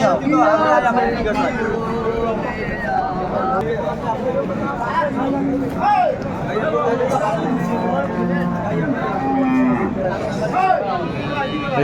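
At a cattle market, a cow with her calf moos repeatedly in drawn-out calls amid a busy crowd, with several people talking loudly and continuously close by.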